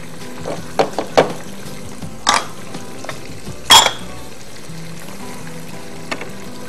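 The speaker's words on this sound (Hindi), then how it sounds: "अब इसको हम थोड़ी सी भुनाई करते हैं, इतनी भुनाई करेंगे कि टमाटर मुझे फील हो कि जी बिल्कुल अच्छा सा भून गया है।" Tomatoes and tomato puree fry in a pan as a spoon scrapes and stirs, giving several sharp clanks and scrapes over a soft background sizzle, close and without talk.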